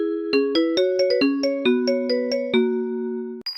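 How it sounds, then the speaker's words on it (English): An iPhone ringtone in a vibraphone voice plays a bright, ringing melody of struck, mallet-like notes in quick succession. The last tone sustains and fades before a brief sound at the end. "vibraphone,"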